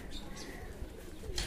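Pigeons cooing at a home loft, soft repeated coos over steady background noise, close but faint.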